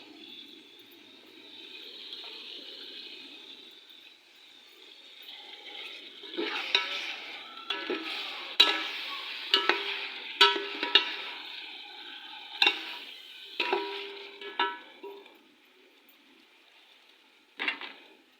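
Crushed ginger and garlic with chopped green chillies are stirred in a frying pan, a soft sizzle broken by repeated scraping and clicking strokes of a utensil against the pan, fairly close, with no talk.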